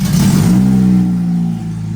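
A 2.0 5R race car engine revs hard and close, a loud rising roar that holds and then eases off, with no voices over it.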